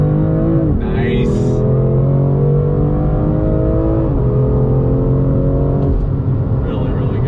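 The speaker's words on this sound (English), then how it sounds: "back on throttle. Here we go, second gear." A 2020 BMW M2 Competition accelerating hard in second gear, its engine note climbing steadily in a loud, continuous pull, with a brief shift-like dip near the end before the revs build again.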